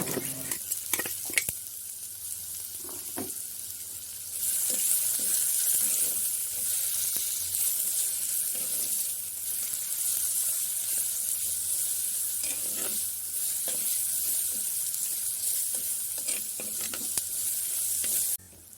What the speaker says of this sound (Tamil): சின்ன வெங்காயம் பச்சை மிளகாய் ரெண்டையும் போட்டு நல்லா வதக்கி எடுத்துக்கொள்வோம்